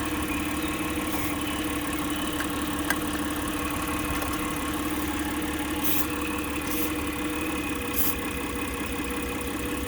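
A 2000 Mitsubishi Pajero 4WD V6 idles roughly with an intake manifold leak, a steady mid-pitched engine drone with faint knocking, close and continuous, with no one talking.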